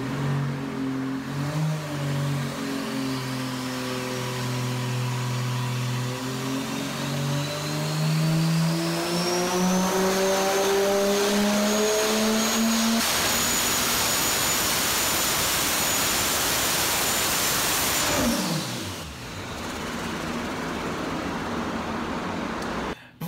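Turbocharged Atlas 4200 inline-six from a junkyard sweeps up on a dyno under rising boost, its loud rising roar building steadily with a turbo whine before the throttle snaps shut and the engine drops to a lower drone.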